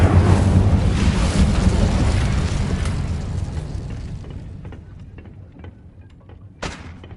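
The Incendio fire spell in Hogwarts Legacy erupts as a loud, roaring burst that slowly fades over several seconds. A brief sharp hit follows near the end.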